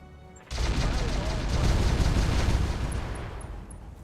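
Acid guided airburst weapon fire in the video game Roguetech during a superheavy mech duel: a sudden loud roaring burst that kicks in after half a second and rumbles on steadily, with a voice talking under it.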